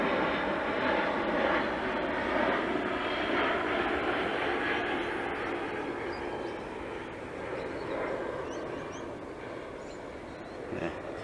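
A Dynam BF110 twin-engine RC model warplane with a 1500mm wingspan flies at reduced power, giving a steady, fairly loud droning buzz with a windy rush that holds evenly for the whole stretch.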